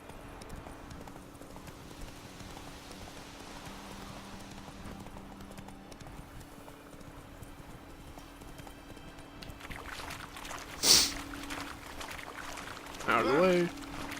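Hooves of a horse in the video game Witcher 3 clip-clop quietly and rhythmically over a low ambient hum, growing a little louder near the end.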